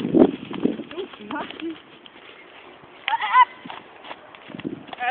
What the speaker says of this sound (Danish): Ekstremt tekniske problemer lige nu med hesten, hva'? Hesten er utrolig frisk.